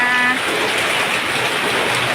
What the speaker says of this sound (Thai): ฝนกำลังตกเลยที่บ้านสวนริมคลอง